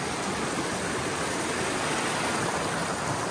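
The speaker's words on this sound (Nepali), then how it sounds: "अब यो खोला हो" A river stream flows at a crossing point near fields being planted with marigolds in Nepal, a steady, close rushing wash of water that continues unbroken throughout, with no voices.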